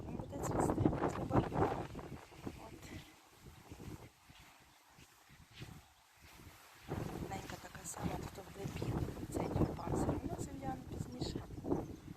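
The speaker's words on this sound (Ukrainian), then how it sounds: "Вітер, звісно, їх носить." Gusty wind rumbles and buffets the microphone while someone talks over it in a village garden, the noise rising and falling throughout.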